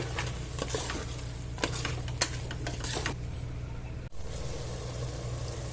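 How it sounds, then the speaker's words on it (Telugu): Mutton curry stirred in a pan, scraping strokes and clinks over a steady sizzle, with a low hum underneath throughout. "ఇగో కూరలు వేస్తాన్నా కలుపుకోవాలి బాగా"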